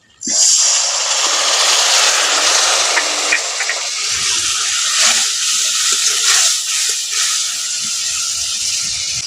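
Mustard paste thinned with water hits a hot pan while cooking shola kochu (taro stems), bursting into a loud, steady hiss of steam and sizzle right from the start and holding close and strong throughout.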